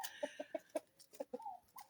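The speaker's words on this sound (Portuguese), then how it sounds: "jogar para as galinhas como elas gostam" Chickens cluck near a fruiting tree as food is thrown to them, a string of short, close, soft clucks at an uneven pace ending in a few drawn-out calls, with no talking.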